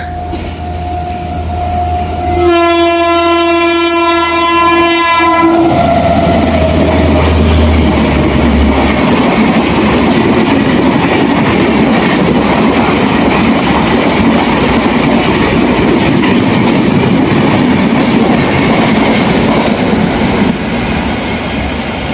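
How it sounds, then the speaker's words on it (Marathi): A train horn blares briefly, then a fast train roars through a station at full volume, a dense continuous rush of wheels and wind that stays loud throughout. "आता फास्ट गाडी जाते. गाडीची स्पीड बघा."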